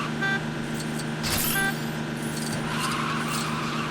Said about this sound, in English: it can go fast. Unsurprisingly, because it is the Flash's car.